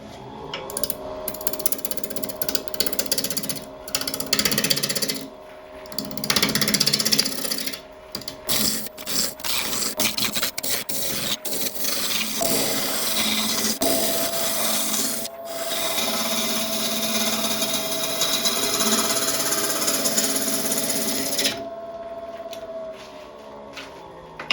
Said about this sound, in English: initially we are going to be turning at about 950 RPM, and we're starting off with a 1-inch spindle roughing gouge